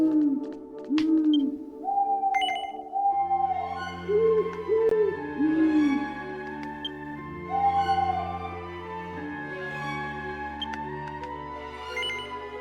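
Owl sculptures in a sound puzzle in the video game Dragon Quest X give off a series of soft, tuned hooting calls in short melodic phrases, separated by brief pauses over a quiet sustained backdrop.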